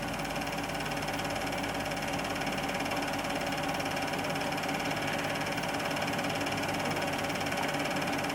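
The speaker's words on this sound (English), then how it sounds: "We now see the throttle being very carefully opened and the revs increasing" A small vintage model aircraft engine with propeller runs at high revs after its throttle is carefully opened. It makes a loud, dense, steady buzzing drone that stays at a constant level, close by and alone.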